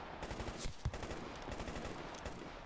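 Rapid automatic gunfire in S.T.A.L.K.E.R. GAMMA, a dense stream of sharp cracks with one louder shot standing out, heard at moderate level throughout.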